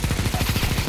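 Rapid automatic gunfire from Counter-Strike 2, played on a zombie escape map, fires as a fast steady burst of close, loud shots with no talk.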